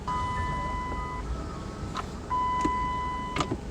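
With a Dodge Caliber stuck in park, a gear shifter release gives a few sharp clicks spaced about a second apart, over a steady electronic chime that beeps on and off inside the car, with no talking.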